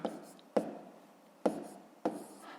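Numbers are written by hand while working a fifth-grade column addition problem, heard as a few short, close, scratchy strokes with faint pauses between them.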